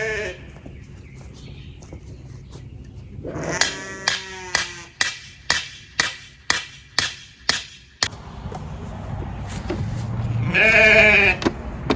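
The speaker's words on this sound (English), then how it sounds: "Sheep, sheep." Sheep bleat near a spot where an electric fence grounding rod is being driven in; a bleat overlaps the start of about nine evenly spaced, sharp hammer strikes, then a louder drawn-out bleat follows after a pause.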